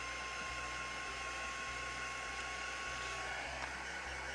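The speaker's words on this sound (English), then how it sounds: "I'm just going to run the heat gun over it a little bit just to make sure it's nice and dry." A heat gun runs steadily over a craft collage piece to dry it, giving a constant airy whir and blowing hiss with a faint thin tone, close and alone.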